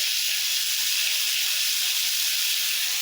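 Vegetables fry in a pan with a continuous, even hiss and sizzle, close and fairly loud, with no talk.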